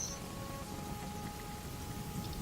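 Steady rain falls as soft background ambience during a tabletop game session, a faint, even hiss of drops with no talking.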